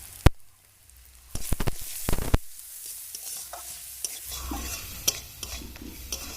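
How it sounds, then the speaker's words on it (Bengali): Chopped vegetables with garlic, capsicum and salt sizzle in a pan for white sauce pasta, with sharp scraping stirs and clatter up close, then a steadier frying hiss underneath. "সবজি ভাজা হয়ে গেছে এখন নামিয়ে নেব"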